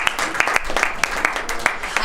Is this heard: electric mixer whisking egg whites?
no